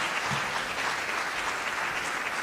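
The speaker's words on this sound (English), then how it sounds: "A round of applause, tafadhali." Steady, dense applause from an audience at a memorial celebrating a life, a continuous even patter of many hands clapping throughout with no pauses.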